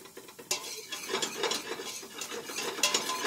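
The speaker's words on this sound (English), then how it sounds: "we're going to let that saute for another minute." Curry powder, kaffir lime leaves and lemongrass sauté in a pan. A utensil stirs and scrapes against the pan with light clinks over a soft sizzle, close and fairly quiet.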